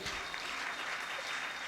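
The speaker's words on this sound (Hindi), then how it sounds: "एक बार जोरदार तालियां बजाइए।" An audience at a religious discourse gathering in Lalitpur applauds steadily, a brief burst of even, moderately distant clapping with no pause.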